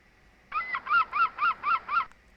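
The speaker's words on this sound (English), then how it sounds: "one extremely loud bird which you would like to shoot with a shotgun and roast" A very loud bird at a fishing port gives six rapid, evenly spaced honking calls in one close burst, with nothing else heard around it.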